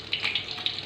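Chicken pieces frying in hot oil for an Indonesian kare ayam, giving a faint, hissing sizzle with a few brief crackling spurts and no voices over it.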